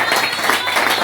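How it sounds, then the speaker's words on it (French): Church congregation clapping and cheering in applause for a pastor's mentor, a dense steady roar of many hands filling the room with no gaps. "je veux que Papa Benoît s'élève et qu'on l'acclame un peu pour la gloire de notre Dieu"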